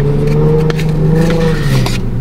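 A car engine revs loudly and continuously up close, a strong droning roar with a rising and falling pitch and brief crackles.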